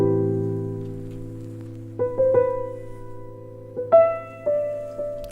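Sustained vintage soul-style piano chords ringing out alone, with a few new chords struck a couple of seconds apart, each decaying slowly.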